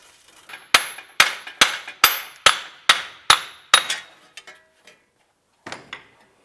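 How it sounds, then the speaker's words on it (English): A car's wheel hub being broken free, a Cadillac DTS of 2006–2011, gives a run of about eight sharp, loud metallic strikes in quick rhythm, then a pause and one fainter knock near the end. "We just used the air chisel and kind of broke it free."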